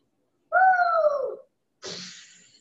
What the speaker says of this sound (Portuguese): Gata.